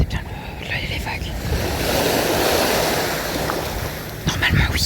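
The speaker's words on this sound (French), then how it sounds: "J'espère que vous entendez bien les vagues." Ocean waves at a beach, a broad continuous wash of surf that swells toward the middle and eases off, with wind buffeting the microphone and faint voice sounds at the edges.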